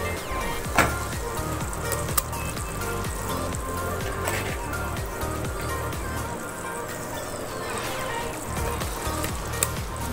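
Marinated chicken for biryani sizzling in a hot pan, a continuous loud frying hiss with occasional crackles and spatter, close up, while a voice speaks over it.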